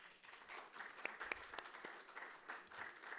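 Faint applause from a forum audience at an international digital cooperation event, a soft, distant patter of many hands with a few sharper claps rising briefly above the spread.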